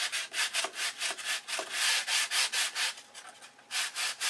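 Hand sanding of a wooden model aircraft fuselage, a rapid series of rasping back-and-forth strokes, close and fairly loud, in a steady rhythm with a short pause before the strokes resume.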